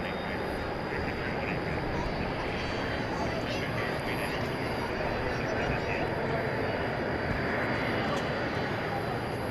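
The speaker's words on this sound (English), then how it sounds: "And so it is now circling, we assume, to make another attempt at landing" A plane circles overhead at night near DFW Airport, apparently lining up for another landing attempt, its engines giving a steady, broad roar that holds evenly throughout with faint talk underneath.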